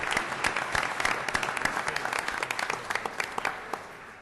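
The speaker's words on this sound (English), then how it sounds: "Let's give Tony and ICE another round of applause, and all the men, all the other departments" At a city council meeting, people applaud Tony, ICE and other departments with a lively round of crisp individual claps over a fuller crowd clapping, gradually thinning out toward the end.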